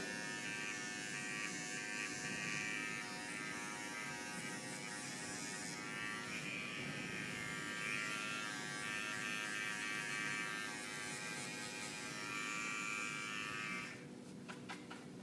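Electric hair clippers with the guard removed buzz steadily and close up while tapering a neckline, a continuous droning hum that shifts slightly as the blade moves and stops near the end.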